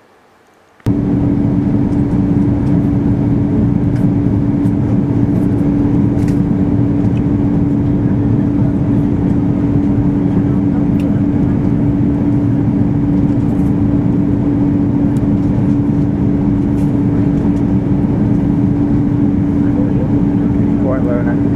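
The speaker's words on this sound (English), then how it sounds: "I have a bit of footage of us coming in to land at Narita Airport." An airliner descends to land at Narita Airport, heard from inside the cabin as a loud, steady engine roar with a constant drone that starts abruptly and holds unchanged throughout.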